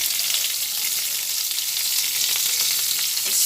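Mustard paste fries in hot oil with slit green chilies while flat beans cook alongside, making a loud, steady close-up sizzle with faint crackles throughout, and no voices.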